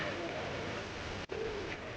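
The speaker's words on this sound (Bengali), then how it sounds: "পুরো খাঁচা জুড়ে গেছে দুটা কবুতরে খুবই বিগ সাইজের কবুতর আর খুবই পাগলাটে ডাকাডাকি বাড়তেছে হাটের ভিতরে" Soft, low cooing from two large pigeons in a cage at a bird market, close by over a constant noisy background, with a brief click partway through.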